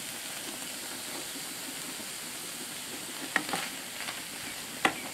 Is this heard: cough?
no